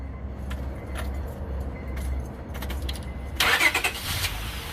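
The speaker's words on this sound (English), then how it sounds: "Now we go ahead and idle her for 15 minutes. We're going to start her up." A 2004 Honda Accord with a 3.0L engine is started after an engine flush: quiet idle-like rumble and faint handling noises, then a sudden loud crank and catch near the end that settles into a running engine.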